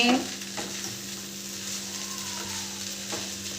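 Lilva kachori filling of green pigeon peas being mixed in a pan, a steady soft scraping and stirring over a faint background hum, with a couple of brief knocks, no voices.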